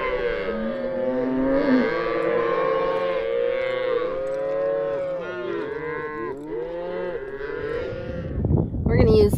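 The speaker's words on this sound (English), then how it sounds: "Here's our pen of calves." A pen of forty to fifty calves on a family ranch moos almost continuously, overlapping low and rising calls from several animals, loud and close, with a burst of rustling noise near the end.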